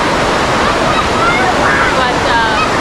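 Amicalola Falls, Georgia's tallest waterfall, rushes in a loud, steady broadband roar that fills the whole stretch without a break, with faint voices partly buried beneath the torrent.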